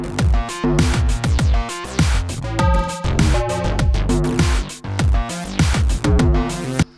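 A loud synth bass line from an Ableton chain selector plays a rhythmic repeating pattern of punchy plucked notes, its tone shifting as different synth patches are switched in, heard alone.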